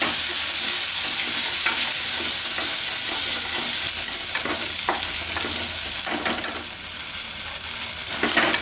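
Small onions, grated coconut and coriander leaves sauté in a hot pan, a loud, steady sizzle and hiss broken by scraping stirs of a spoon against the metal.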